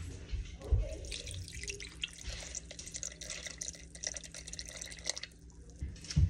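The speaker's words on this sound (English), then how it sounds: "325 grams of warm water." Warm water poured into a bowl set on a kitchen scale while making cinnamon raisin bread dough, a steady splashing trickle lasting several seconds with brief louder knocks near the start and end.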